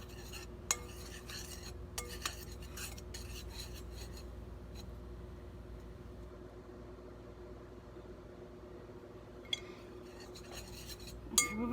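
Spoon stirring a fried green tomato batter mixture in a bowl, faint scraping and light clinks scattered through a quiet kitchen, with a few sharper taps near the start and end.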